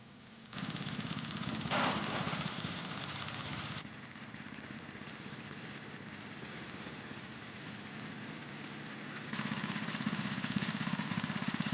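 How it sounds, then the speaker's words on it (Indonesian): Motorized coffee pulper machine peeling ripe coffee cherries during Gayo coffee processing in Aceh, a steady droning engine hum with a slight shift in tone partway through, running alone. "biji-biji kopi ceri pertama-tama dikupas dengan mesin pulper."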